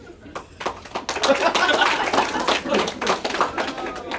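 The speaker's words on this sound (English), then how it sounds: "Round of applause," Comedy club audience applauding during crowd work, a dense burst of clapping that swells after a quiet start and stays steady, with some laughter and chuckles mixed in.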